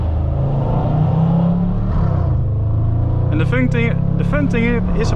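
A loud, close straight-piped Audi RS4 B8 exhaust drones steadily under acceleration, with a rising wavering voice layered over the engine for the last couple of seconds.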